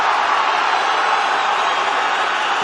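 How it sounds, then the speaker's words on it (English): A crowd at an MMA fight roars in support of a fighter, a steady, loud wash of cheering that stays constant throughout. "Crowd getting behind him."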